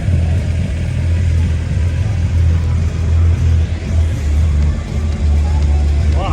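A 1970s Pontiac Firebird sits in a parking lot at a car gathering, its engine producing a loud, steady low rumble with slight swells close by, while voices talk faintly in the background.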